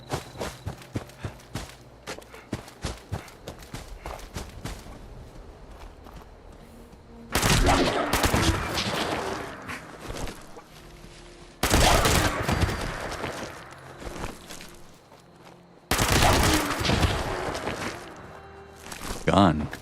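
Loud gunfire in the Fallout 76 video game: quick light clicks and steps give way to three long, heavy bursts of sustained automatic fire, close and harsh, with brief gaps between them.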